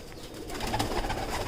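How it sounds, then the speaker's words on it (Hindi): Chuha kabutar pigeons give a short, soft coo, fairly faint, against a low background hum in their enclosure. "प्योर चूहा कबूतर जी"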